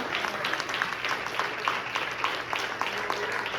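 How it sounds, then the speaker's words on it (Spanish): Steady rhythmic clapping from a church congregation, sustained throughout with light voices underneath. "Dele palmas al Señor en esta tarde."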